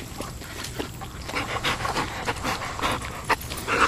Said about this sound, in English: It's little Clair, the Basenji dog, and Bob Brown, the big brother.